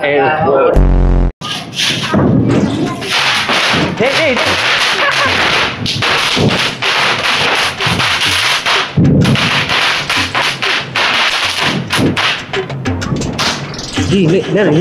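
Diwali firecrackers burst in a rapid, crackling string of sharp, loud bangs close by, continuing for many seconds with brief gaps, while voices talk and exclaim over the noise.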